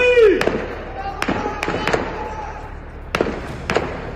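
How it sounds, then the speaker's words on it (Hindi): Gunshots ring out at Aqabat Jabr refugee camp in the West Bank, where armed men opened fire on IDF troops during a ground operation. About six or seven sharp, echoing cracks come at irregular intervals over a low background murmur. "गोलियों की आवाज से थराया अकबत जबर कैंप"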